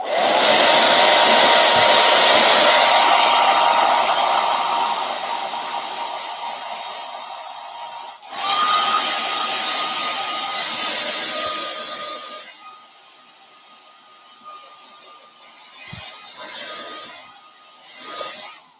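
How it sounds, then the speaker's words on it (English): A blow dryer roars loudly for several seconds, shuts off, then blasts again before stopping, leaving faint handling noises. "with my blow dryer, I'm going to hit this with the blow dryer once"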